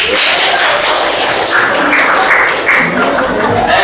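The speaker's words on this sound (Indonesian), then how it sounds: "Tepuk tangan" A dense wash of clapping from a group at a university teacher education presentation, steady and fairly loud throughout, with muffled voices mixed in.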